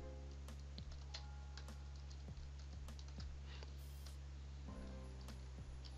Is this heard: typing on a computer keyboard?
yes